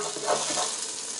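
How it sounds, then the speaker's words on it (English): Black mustard seeds are stirred in hot oil for a spicy potato dry curry, giving a steady close hiss and sizzle with soft scraping through the brief moment. "So we'll put in the black mustard seeds. Just give them a little stir,"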